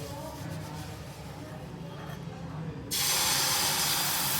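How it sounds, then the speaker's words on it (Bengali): Ghee sizzling and hissing in a hot pan for mango patishapta, jumping to a loud, steady broadband fry partway through after a quieter stretch of cooking noise with a voice underneath. "এখন আমি ভাজতে চলে যাব একটুখানি ঘি ব্রাশ করে নিলাম"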